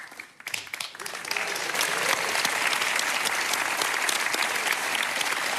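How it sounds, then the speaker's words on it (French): A concert audience bursts into applause for a cor anglais player, scattered claps building within the first two seconds into a full, sustained round that stays loud to the end. "Et peut-être un applaudissement spécial pour le joueur"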